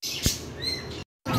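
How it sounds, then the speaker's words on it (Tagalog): A short burst of bright lovebird chirps and tweets at an animal market in San Carlos City, Pangasinan, close and lively, with a brief pause before the chirping resumes. "going to try to sell these lovebirds that we have in the market"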